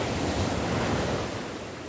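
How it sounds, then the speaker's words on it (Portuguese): Ocean waves breaking on the beach at Garopaba during a small storm swell, a dense, continuous roar of surf with wind noise, loud and steady with no voices. "O som das ondas estourando é maravilhoso"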